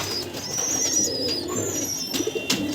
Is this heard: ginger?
no